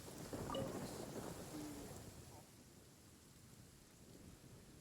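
Rain and distant thunder in the video game Genshin Impact, a low rolling rumble that swells early and fades under a faint, steady rain hiss, fairly quiet throughout.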